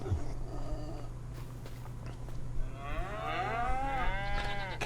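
Calves moo in the farming game Homestead Survival, a drawn-out bovine call rising in the second half over a steady low hum from the game's ambience.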